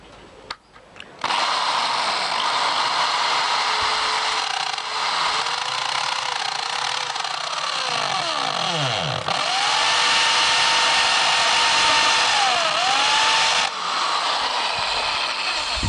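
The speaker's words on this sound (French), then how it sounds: "perçage." Electric drill with a small metal bit of about 3 mm boring into wood on a bookcase repair, a loud, close, steady whine held for many seconds, its pitch dipping and rising as the load changes and the bit hits a knot.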